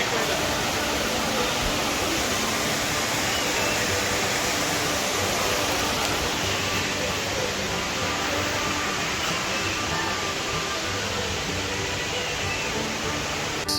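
A waterfall in Valparai carrying plenty of water pours as a loud, unbroken broadband roar, steady and close throughout.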